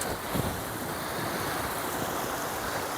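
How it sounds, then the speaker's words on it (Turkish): Water running in a stream fed from the river beside gardens in Güzelyurt, Cappadocia. A steady, broad rushing hiss stays close and even throughout, with nothing else heard over it. "Suyun şırıltısını duyuyorum."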